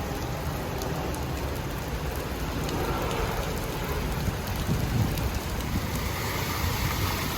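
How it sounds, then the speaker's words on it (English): Heavy rain pours down in Thailand, a dense continuous hiss of drops on hard surfaces that stays loud and even throughout, with no voices. "It is downpouring."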